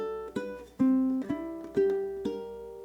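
Ukulele blues walking bass line moving from bar 9 into bar 10, played with linear picking: a handful of plucked single notes in a steady stepwise rhythm, close and clear with no talking.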